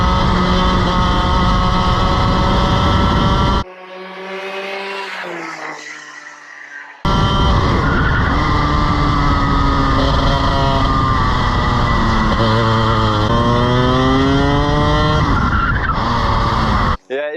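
A go-kart's small engine revs high and steady on a race circuit, then tires squeal in a long skid through a corner, with the motor dropping and climbing again.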